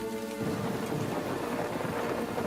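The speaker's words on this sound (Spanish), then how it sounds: "Cuando de pronto se vio atrapado en una espectacular tormenta eléctrica." A dramatic thunderstorm sounds as heavy rain pours continuously with a deep rumbling roll of thunder underneath, loud and dense throughout, without any voices.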